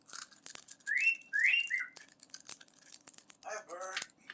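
A chatty pet parrot gives a string of short rising whistles and chirps close by, mixed with clicks and small rustling noises.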